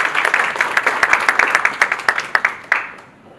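Audience at a Kenyan internet peering forum applauding as a speaker comes on stage, a dense burst of many hands clapping, fairly loud and rhythmic, ending abruptly and leaving room tone.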